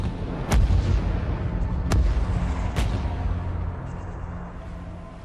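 Heavy naval cannon fire from the Japanese battleship Yamato, three deep booming shots spaced about a second apart over a loud rumbling background, fading into a lingering low roar.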